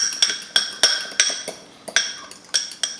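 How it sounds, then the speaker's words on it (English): A spoon clinks against a bowl while dried oregano and grated pecorino romano are mixed together, giving a run of sharp, close metallic taps at an uneven, quick rhythm, with no talking. "I'm going to give this a quick mix."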